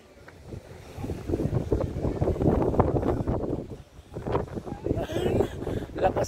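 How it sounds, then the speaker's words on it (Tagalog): Strong wind buffets the microphone in loud, rumbling gusts outdoors, rising and falling while people talk underneath. "Malakas ang hangin, no?"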